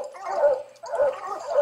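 Coonhound puppies bark and yip in two bursts of overlapping, fairly close barking, broken by a short lull, during coon-hunting training.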